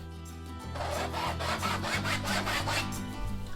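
A tool scratches marks into wet paint on a giant abstract canvas: continuous rough scraping strokes in quick repeated passes, close and steady, with no voice.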